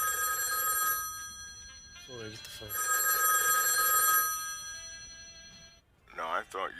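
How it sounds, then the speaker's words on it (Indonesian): A telephone bell rings in a film scene in two bursts, with loud sustained ringing broken by short gaps and brief speech in between, then a voice near the end. "sebuah dering telepon membangunkan Louis di kamarnya"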